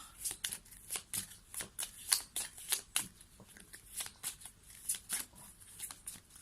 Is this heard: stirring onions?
no